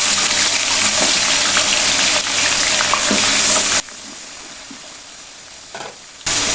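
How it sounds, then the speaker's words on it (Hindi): Onions sizzle loudly in hot oil in a pot for chana pulao, a steady broadband hiss that drops to a quieter simmer partway through and then flares again near the end. "अब इसमें ऐड करेंगे हम लोग प्याज"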